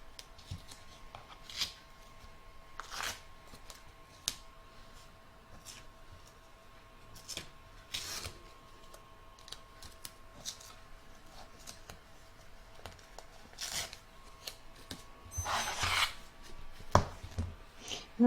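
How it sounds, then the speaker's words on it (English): Scissors trim excess quilting fabric from an in-the-hoop embroidered heart, front and back: quiet, scattered snips and rustles of cloth at close range, with intermittent louder cutting bursts near the end and no talk. "I'm now going to trim up all the excess fabric"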